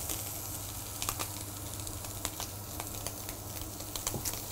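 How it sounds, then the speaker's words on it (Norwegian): Meat sears in hot oil in a pan, a steady close sizzle with occasional sharper spits and crackles, heard alone without talk. "Vi svir det først kun av i olje."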